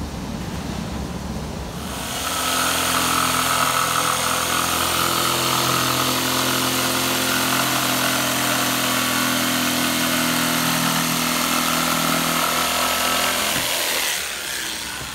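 A power tool cuts through plywood for a 1967 Ford pickup console, a loud, sustained whine that spins up after a couple of seconds, holds steady for roughly eleven seconds with no talk, then winds down.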